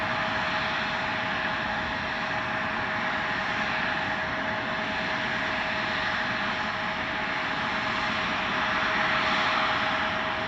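Steady jet engine rumble and whine from an aircraft at Chicago O'Hare airport, a constant moderately distant drone with no talking.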